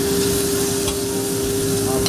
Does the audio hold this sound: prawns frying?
yes